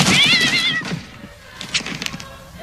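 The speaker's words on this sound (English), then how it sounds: "This box is meowing." A cat meows loudly from inside a wrapped Christmas gift box, one drawn-out wavering cry followed by quieter rustling and muffled movement.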